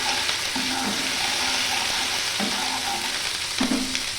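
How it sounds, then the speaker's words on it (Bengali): Garlic paste frying in hot oil while being stirred, a dense close crackling sizzle with recurring scraping strokes of a spoon across the pan. "রসুন বাটাটা দিয়ে একটু নেড়ে নিচ্ছি"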